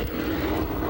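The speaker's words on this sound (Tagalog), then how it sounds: "Ito na naman yung helicopter." Aircraft rotor and engine drone overhead during an armed siege with tanks and a burning building, a steady, fairly loud continuous roar with a low throbbing beat throughout.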